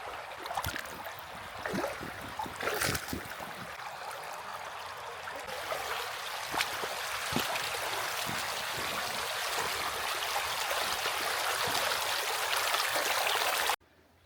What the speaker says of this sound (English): I ran into this beautiful little creek